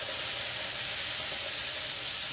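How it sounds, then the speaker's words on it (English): Tomato sauce mixed into sizzling lamb fat and olive oil: a dense, steady hiss of frying that fills the whole moment, close and even, with no talk over it. "And now we're going to mix in our tomato sauce."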